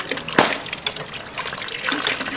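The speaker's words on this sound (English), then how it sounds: "So as you see me pumping, now I'm filtering water." A GAIA bacteria filter hand pump pushes water through the filter with gushing, splashing bursts, close and fairly loud, a sharp surge near the start and a steadier trickling flow after.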